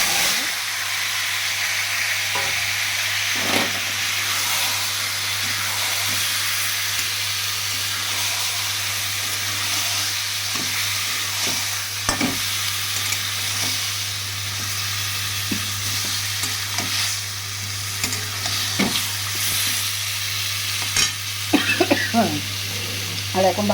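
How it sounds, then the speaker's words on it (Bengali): Food sautéing and being stirred in a pan over a home stove, a steady hissing sizzle with scattered spoon scrapes and taps, against a constant low hum. "আর এখন ভালো করে এটা কষিয়ে নেবো,"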